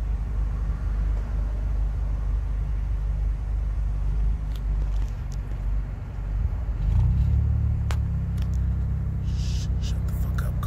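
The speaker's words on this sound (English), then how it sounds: "Get a ticket for fucking loud exhaust." Car engine with a loud exhaust revving and rumbling nearby, a steady low drone that swells louder partway through, with faint voices in the background.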